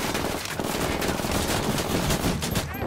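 Automatic gunfire in the video game Ghost Recon Wildlands, rapid, dense bursts of shots that hammer on close and loud for about three seconds.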